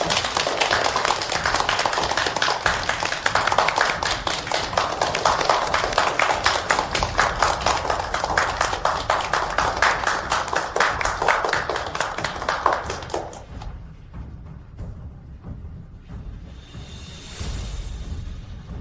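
An audience applauds as the director of Junding Group walks up on stage, dense rhythmic clapping sustained for about thirteen seconds before stopping abruptly into quieter room tone.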